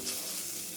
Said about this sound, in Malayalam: വെളിച്ചെണ്ണ ഒഴിച്ച് കടുക് വറുത്ത് അതിലേക്ക് അത് അങ്ങനെ തന്നെ ഇട്ടു